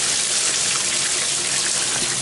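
Hot water gushing steadily from a tap into a sink and draining away, a loud continuous broadband rush with no talk.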